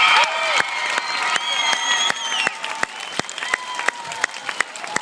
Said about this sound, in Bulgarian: Браво, аплодисменти!